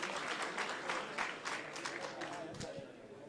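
A crowd at a fundraiser for Shabana FC applauds a donation, with brisk clapping that fades gradually as a voice carries on over it.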